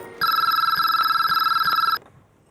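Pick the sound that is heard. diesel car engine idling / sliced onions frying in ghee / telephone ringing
telephone ringing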